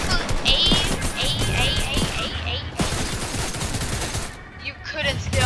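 Rapid rifle gunfire in the Fortnite video game, with bursts of shots and loud overlapping game effects that stay dense and continuous throughout, plus a short stretch of talk partway through.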